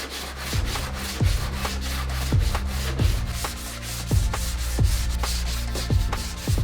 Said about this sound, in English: Alright, now the Bondo's dry. 80 grit, sanding block,